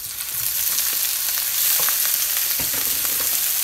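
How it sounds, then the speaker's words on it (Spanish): Shrimp frying in a hot pan for a shrimp salad, a dense, close sizzle holding steady for a few seconds with light stirring clicks, no talking. "vamos a echarle todos los camarones"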